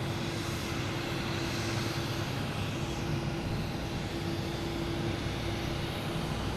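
A Lufthansa Boeing 747 airliner at Boston Logan Airport gives a steady, broad engine roar with a low tonal hum, holding constant and fairly distant throughout, with no voices.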